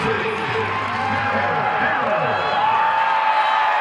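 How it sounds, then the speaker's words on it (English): Stadium crowd at a college football game in Missouri, a steady roar of cheering throughout as a kicker prepares to kick, with a voice talking over it. "You can hear the crowd."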